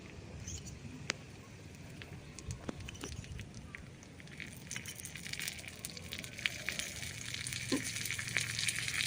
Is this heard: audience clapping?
no